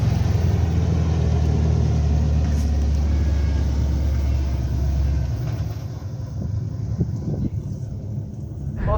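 A LS1-engined 180SX drift car with a T56 gearbox rumbles steadily with a deep, loud engine drone that eases slightly partway through and stays continuous to the end.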